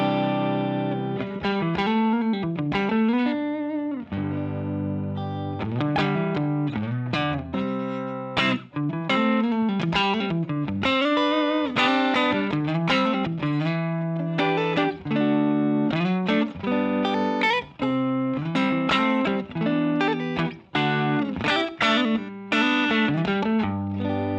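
An electric guitar plays a continuous melodic line through a subtle compressor pedal into a slightly pushed amp with low-output pickups, notes evened out and sustained, clean-to-lightly-driven tone with a touch of chorus-like shimmer, played alone.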